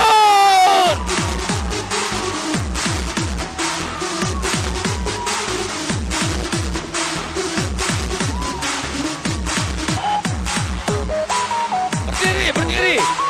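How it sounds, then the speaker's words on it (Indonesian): A seminar audience in Malaysia rises and applauds, sustained loud rhythmic clapping filling the hall with scattered whoops and cheers, a steady beat of music underneath throughout. "Berdiri, tepuk tangan yang meriah."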